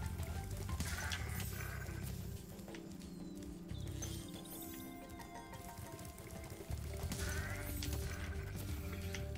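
A ram in Spyro the Dragon's Artisans home world gives repeated bleats over a busy game soundscape with music and hoof-like clatter.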